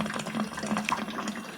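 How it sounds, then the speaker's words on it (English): Hot water drains from a water heater in a steady, hissing gush with faint gurgles, continuous and close, with no talk. "That's some hot water coming out of there."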